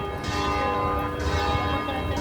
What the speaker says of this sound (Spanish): eso que suena y repican, obviamente, pues son las campanas de la catedral